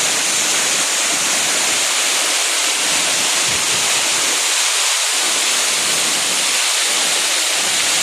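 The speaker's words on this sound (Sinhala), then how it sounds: "ඔන්න උඩින් වැටෙන ඇල්ලාරේ." The Beerigan waterfall in Sri Lanka pours down from above, heard up close at its base as a loud, unbroken roar of rushing water with wind buffeting the microphone.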